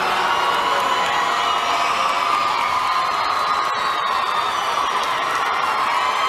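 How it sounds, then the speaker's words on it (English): The crowd at the Billboard Music Awards reacts to a performer with a loud, sustained wall of noise, voices jeering and shouting together continuously throughout. "the crowd boos him."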